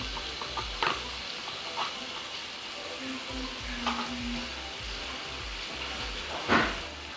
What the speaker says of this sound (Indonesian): Pertama kita tumis bumbu dasar putih ya.